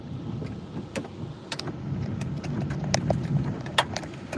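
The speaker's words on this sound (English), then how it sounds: "now the hail's hitting from the right-hand side" Hail pelts a car during a violent wind storm, irregular sharp clicks and taps striking the body over a roaring gusty rush.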